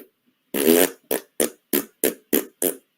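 Squeezed rubber bladder toy producing belch-like blasts: one long rasping burst followed by six short, evenly spaced puffs, close and loud with no talk.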